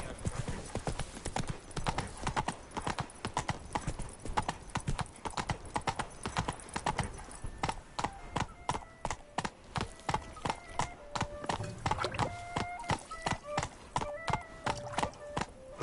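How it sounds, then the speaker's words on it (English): Hoofbeats of a horse galloping in The Witcher 3, a fast, steady clip-clop rhythm running throughout at close range, with brief tonal game sounds chiming in toward the end. "Run, Roach."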